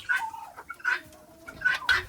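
Black Cochin chickens in a backyard flock give a few short, close clucking calls in quick succession, fairly faint against a quiet background.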